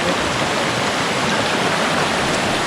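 Dense, constant rushing water close by, a loud hiss and splash like a cascade, continuous with no talk.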